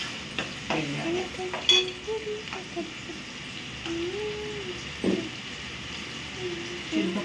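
Masala and coconut paste are stirred into a simmering fish curry in a pot, with soft scraping and a gentle sizzle running throughout while someone talks nearby.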